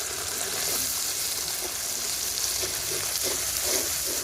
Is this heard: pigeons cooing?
no